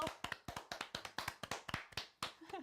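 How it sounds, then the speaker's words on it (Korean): Hands clap quietly at close range in quick, fairly even beats, roughly a dozen sharp claps in under three seconds, with no talking. "박수."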